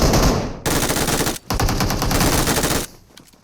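Rapid automatic gunfire in a multiplayer shooter match, loud and close, firing in sustained bursts with a short break near the middle and stopping before the end.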